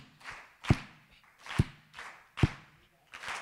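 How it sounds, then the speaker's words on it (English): Audience members clapping hands together in a steady rhythm at a live dance performance event, with four evenly spaced, fairly loud claps landing about once every 0.9 seconds across a small room. "These 2 rows, you're just gonna clap"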